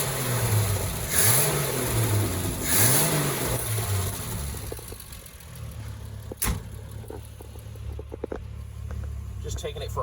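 A 1972 Triumph TR6 sports car engine revs up and down twice on a driveway, then settles into a lower running rumble with a few clicks and knocks nearby.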